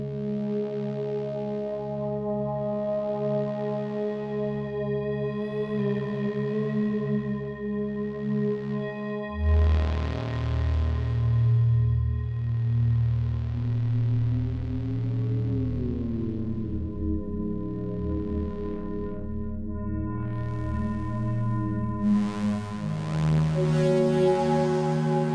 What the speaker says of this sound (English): Very slow evolving pad.